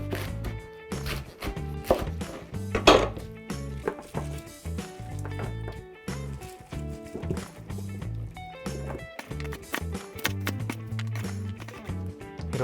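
A knife cuts squeezed young radish greens (yeolmu) into bite-size pieces for vegan kimchi, with steady rhythmic thuds on a cutting board repeating throughout at close range.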